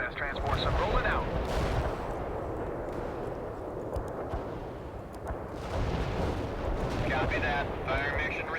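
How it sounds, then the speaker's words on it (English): Heavy artillery barrage in World in Conflict, a sustained rumbling roar of distant impacts and gunfire with louder swells near the start and end, and unit voices talking over it. "Heavy artillery barrage inbound."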